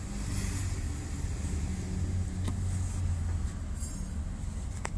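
A Suzuki Carry Futura that will not run, with no ignition spark, grinds under its starter motor in a loud, continuous, close-up drone lasting several seconds, with no voices.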